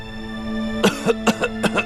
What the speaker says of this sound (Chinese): 一直咳嗽不停，浑身发冷，然后还不停地冒汗，一直在咳嗽